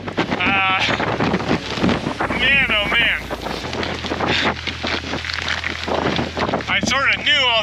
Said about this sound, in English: So that is some serious wind yet again.